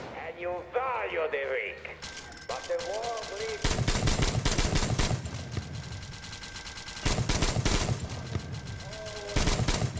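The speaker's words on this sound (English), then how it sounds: "Who's shooting me?" Automatic gunfire in Metro Exodus rattles in dense, sustained bursts aimed at the player, loud and close. Someone talks over the first two seconds before the shooting takes over.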